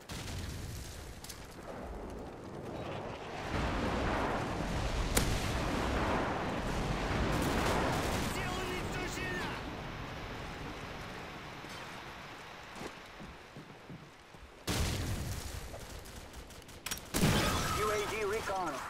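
Airstrike explosions in Call of Duty 4 on PC, rolling booms and rumbling blasts spread over several seconds, loud and heavy, then fading, with game voice lines heard over them.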